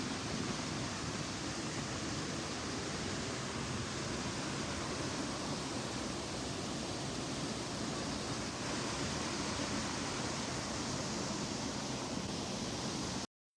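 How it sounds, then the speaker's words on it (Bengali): Hudhudi waterfall, swollen by monsoon rain, pours down a forested hillside as a steady, unbroken broadband roar of rushing water that stays even and constant throughout, with no voices. "এই ছাঁকা পরিষ্কার জলটাই জঙ্গলের মধ্য থেকে গিয়ে পাহাড়ের ওপর থেকে পড়ে জলপ্রপাতের সৃষ্টি হয়েছে।"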